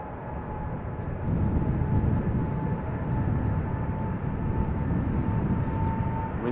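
A KLM Boeing 787-10 Dreamliner rolls at Amsterdam Schiphol Airport, a steady low engine rumble with a faint whine, loud and continuous, with wind buffeting the microphone.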